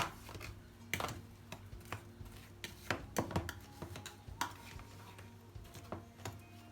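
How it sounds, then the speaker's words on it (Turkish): Metal fork scraping and clinking through semi-frozen homemade strawberry ice cream in a container, a steady run of close, sharp taps and scrapes with no talking. "Şimdi çatal ile güzelce karıştırıyorum."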